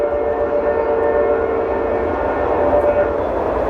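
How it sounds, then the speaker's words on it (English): A train rumbles past steadily near Big Beaver Wetlands in Beaver County, Pennsylvania, a loud, continuous drone with sustained tonal hum and no voices. "You can hear that train."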